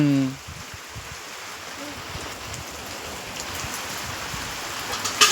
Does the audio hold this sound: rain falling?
yes